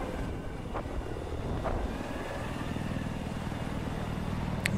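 A video game helicopter in a competitive multiplayer match gives off a steady, moderately loud engine drone that holds for the whole stretch.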